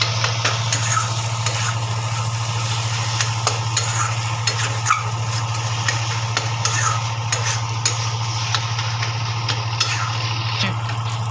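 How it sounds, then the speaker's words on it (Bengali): Chopped tomatoes sautéing in a pan with ginger and garlic for a mutton curry, a steady sizzle with a spoon stirring and scraping at intervals, and a constant low hum underneath; no talking. "টমেটো দিয়ে কষাবো"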